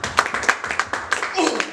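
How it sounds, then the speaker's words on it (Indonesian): Church congregation clapping in a short burst of applause, sharp scattered hand claps over roughly two seconds, with voices mixed in. "mari yang di ruangan ini kita beri tepuk tangan yang meriah buat Tuhan"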